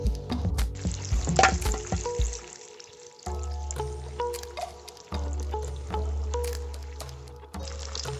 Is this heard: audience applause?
no